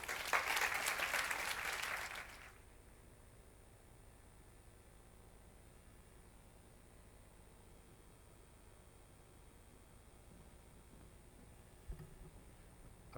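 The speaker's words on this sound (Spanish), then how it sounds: "Un aplauso." Brief burst of audience applause at a regional business award ceremony, loud clapping for about two seconds that cuts off abruptly into near silence with faint rustles.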